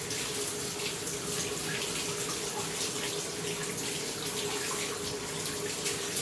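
Tap water pours steadily into a sink, rinsing the filter and cyclone assembly of a Bissell PowerForce Compact vacuum, a constant close splashing rush with no voices.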